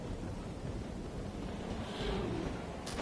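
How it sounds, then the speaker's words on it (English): Wind blows outdoors in the video game Bloodborne, a constant broadband rush with no breaks, moderately loud and steady throughout, with a faint brightening toward the end. "It's very windy."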